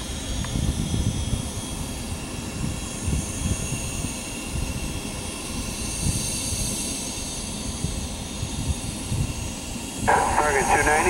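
An American Airlines Boeing 737-800 jet at Stewart International Airport gives off a steady, loud engine roar and whine that runs throughout, with a higher tonal sweep rising near the end.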